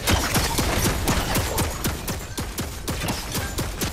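A Fortnite turret firing in a steady rapid stream of sharp, evenly spaced shots, loud and close, with almost no talk over it.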